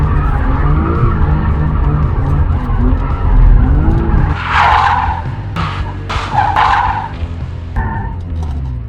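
A BMW M3 drifts around a cone, its tires skidding and squealing in loud bursts over a steady, close engine roar.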